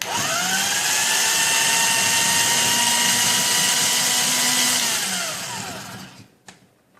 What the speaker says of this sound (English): So this is how it goes. You can see how it is grating